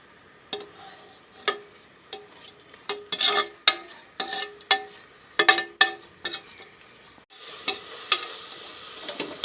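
Sliced onions and small shallots fry in a pan for vegetable biryani, giving a steady sizzle broken by repeated scraping strokes of a spoon stirring them, with a louder burst of frying near the end.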